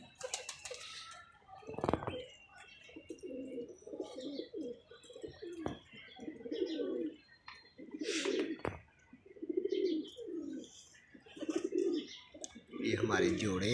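Pigeons, including a breeding pair settling onto eggs, give repeated low throaty coos in regular bursts, fairly close, with occasional wing flutters and someone speaking between them.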